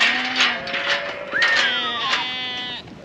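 Sheep, ewes and lambs penned together bleat repeatedly, several overlapping calls of different pitch close by, one rising cry standing out among the steady bleating.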